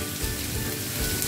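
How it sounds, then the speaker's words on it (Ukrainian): Carrots and onions sizzle and crackle in a frying pan, a steady hissing spatter with occasional stirring scrapes, heard up close and alone. "І продовжуємо так смажити. Ось так помішуючи морку. І ось так помішуючи цибульку."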